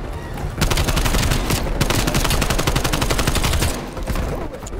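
Sustained rapid automatic fire from an MP5 submachine gun in the video game Call of Duty: Black Ops Cold War, loud and dense for about three seconds before tapering off, with no talk over it.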